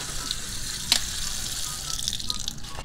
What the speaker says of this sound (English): Now I'm going to put them into this colander and rinse them off